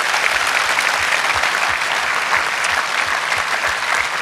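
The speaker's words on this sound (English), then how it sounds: "I think the round of applause to everyone in here" Audience applause at the World Indoor Bowls Championship final, a loud, continuous crowd clapping sustained throughout at close range.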